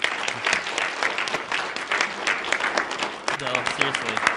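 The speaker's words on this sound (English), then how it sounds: "Let's give these guys another round of applause" A seminar audience applauds in a steady, dense wash of clapping that holds for several seconds, with voices briefly rising beneath it near the end.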